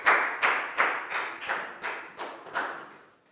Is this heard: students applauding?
yes